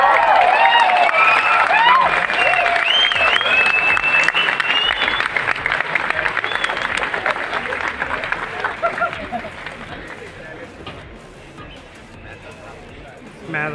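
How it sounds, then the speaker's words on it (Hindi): A live comedy show crowd bursts into loud, dense applause with cheering and crowd noise, holding steady for several seconds before slowly thinning out toward the end. Whistle-like tones and a voice rise over the clapping early on. "भरपूर तालियों के साथ एक बार फिर हमारे परिवार आपको मिल रहे हैं"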